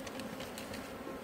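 Honey bees drone at an opened hive, a faint, steady buzzing that stays at a low level throughout with no voices over it.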